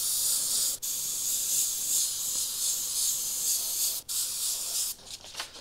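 An airbrush sprays paint over a paper template in a light dusting, giving a steady, fairly close airy hiss with two brief breaks and a few short sputtering bursts near the end.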